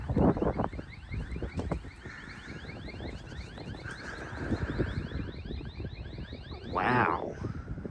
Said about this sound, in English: Okay, the alarm went off.